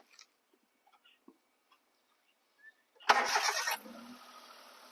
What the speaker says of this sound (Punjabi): ਲੋ ਜੀ ਇੰਜਨ ਦੇ ਸਾਊਂਡ ਤੁਸੀਂ ਚੈੱਕ ਕਰੋ ਇੱਕ ਵਾਰੀ